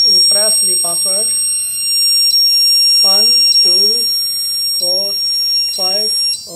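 A Zeta fire alarm control panel buzzer sounds as a continuous high-pitched electronic tone, with a few faint beeps, under clear nearby talking.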